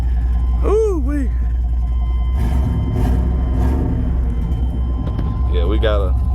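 A 1997 two-door Chevrolet Tahoe engine idles with a steady low rumble throughout, close and loud, while people talk and call out over it.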